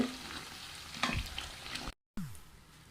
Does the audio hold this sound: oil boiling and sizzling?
yes